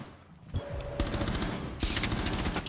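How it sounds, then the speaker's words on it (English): Rapid bursts of video game gunfire ring out in two loud volleys of automatic shots with sharp sustained crackle, separated by a brief gap after a quieter opening. "Someone shooting over here."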